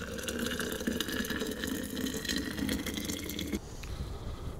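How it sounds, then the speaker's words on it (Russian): Water pours in a steady splashing stream over chamomile in a container for several seconds, then stops abruptly, leaving a quieter trickle; close and alone. "Заливаем 400 грамм воды"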